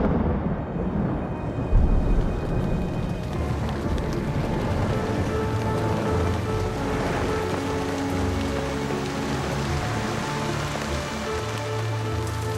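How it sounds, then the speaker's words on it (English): Heavy rain pours down in a dense, constant wash, with low rumbles of thunder rolling underneath and a brief louder burst near the start. "alternating with endless, devastating rain"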